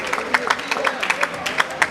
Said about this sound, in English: That applause is always for support of the athlete